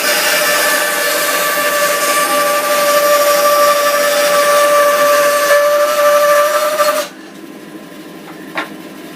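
A Charnwood B350 bandsaw with a 4 TPI blade cuts a block of pine, a loud steady whine and rasp that stops abruptly near the end, followed by a faint click.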